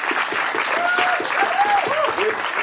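Audience applause from a crowd, loud and continuous, with a voice or tonal sound rising and falling over the clapping partway through.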